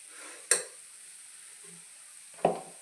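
Eggplant frying in a pan crackles with a quiet, steady sizzle, punctuated by two distinct scraping clanks of a spoon stirring against the pan, one early and one near the end.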